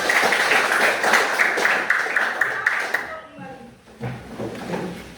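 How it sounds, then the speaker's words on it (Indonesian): A classroom of Indonesian students claps together in brief, dense applause lasting a few seconds, which fades before a teacher begins speaking. "Tepuk tangan buat kita semuanya."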